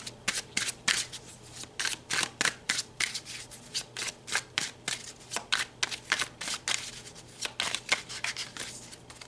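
Tarot cards being shuffled by hand in a steady run of crisp, papery riffles and slaps, close and fairly quiet, with no talking.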